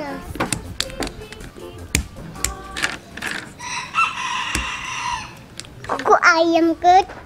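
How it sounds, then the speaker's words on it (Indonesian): A rooster crows loudly near the end, following scattered clucks, taps and someone talking in the background. "Ayam"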